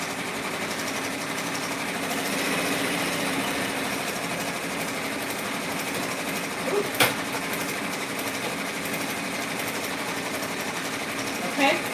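A single-needle embroidery machine stitches a patch with a fast, continuous mechanical chatter, close and loud throughout, with a couple of brief clunks near the end.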